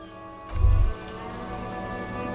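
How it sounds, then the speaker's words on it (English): Steady rain falls in the video game Disco Elysium, a constant even hiss heard alone, with a brief low thump early on. "This rain will not let up anytime soon."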